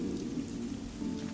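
Rain in the video game Minecraft, a steady soft patter of rainfall, fairly quiet and continuous, with no voices.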